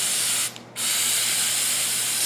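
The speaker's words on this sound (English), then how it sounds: "Okay, now I got a good spray." Flex Seal sprays from an aerosol can in a steady, loud hiss that cuts out briefly for a moment, then resumes continuously to the end.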